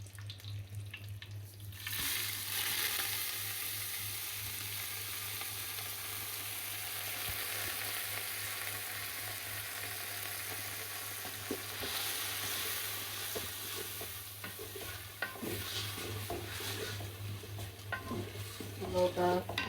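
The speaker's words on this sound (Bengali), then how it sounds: "একটা ভাজা দিয়ে নিচ্ছি" Rice fries and is stirred in a pan for pulao, giving a steady broad sizzle with scraping stirs throughout and a low hum underneath.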